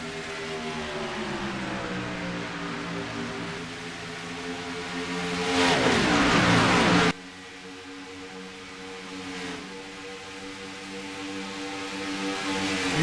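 Stock car engines roar and drone at Homestead-Miami in a racing game, several cars running together with rising pitch, a loud surge as one passes close, then sustained engine noise.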